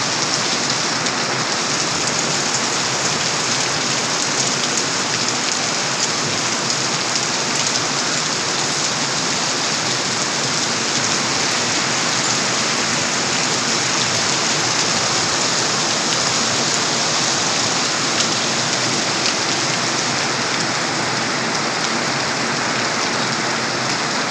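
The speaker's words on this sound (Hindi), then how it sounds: "बड़ी तेज मी पे रही बड़ी तेज़" Heavy rain pours steadily outside a gurdwara, a dense unbroken hiss of drops hitting surfaces, loud and constant throughout with no voices.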